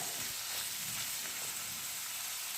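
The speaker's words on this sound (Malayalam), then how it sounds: "ഇതിലേക്ക് ഞാൻ വെളിച്ചെണ്ണ അയച്ച് ചൂടായതിൻ്റെ ശേഷം സവാളയും ഇഞ്ചി വെളുത്തുള്ളി പേസ്റ്റ് എല്ലാം കൂടെ ഇട്ട് കൊടുത്തതാണ്" Sliced onion and ginger-garlic paste sizzling in hot coconut oil for a green banana roast, a close, dense and even frying hiss with light stirring throughout.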